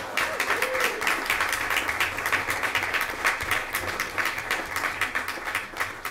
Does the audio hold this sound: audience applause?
yes